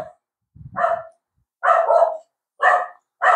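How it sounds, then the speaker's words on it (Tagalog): A dog barks in four sharp bursts with short pauses between them, close and loud, with a low grumble just before the second bark. "Kulit na aso nga tayo."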